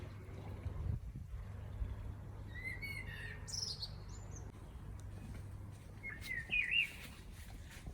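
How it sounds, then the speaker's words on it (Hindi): Small birds chirping outdoors at dusk as they return home, a few short high calls scattered and fairly distant over a quiet, low background hum. "देखें बस परिंदों की आवाज़ आ रही है।"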